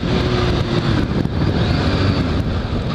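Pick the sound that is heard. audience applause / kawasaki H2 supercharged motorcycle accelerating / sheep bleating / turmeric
kawasaki H2 supercharged motorcycle accelerating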